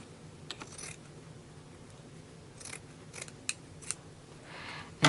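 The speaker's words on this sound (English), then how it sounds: "then I trim all the threads, trim the corners just a little bit." Scissors snipping loose threads and trimming the corners of sewn fabric for a dress with a lace border, a few sharp isolated snips against a quiet room, close by and with no voice.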